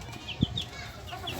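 Small chicks peeping in soft high chirps near a home incubator, with a low muffled bump partway through and no talk.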